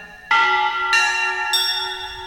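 A temple bell (ghanta) voice played on a Roland XPS-60 keyboard strikes three times, each ringing metallic tone higher than the last, loud and close, sustaining and overlapping, with no talking.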